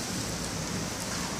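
Heavy thunderstorm rain pours down outside, a dense, steady hiss of water striking surfaces that fills the whole clip, close and unbroken, with no voices.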